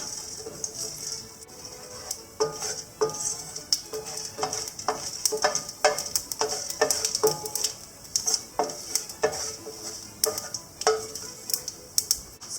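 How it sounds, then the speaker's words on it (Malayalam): Spices stirred into hot olive oil in a frying pan sizzle steadily, with a bright hiss running throughout and repeated close clicks and scrapes of a spoon against the pan. "ഇതിലേക്ക് ഇനി എടുത്തു വെച്ചിരിക്കുന്ന സ്പൈസസ് എല്ലാം ചേർക്കാം. ഒന്ന് മിക്സ് ചെയ്തെടുക്കാം."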